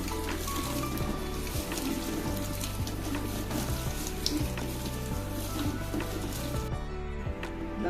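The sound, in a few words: hot milk poured into roasted semolina and stirred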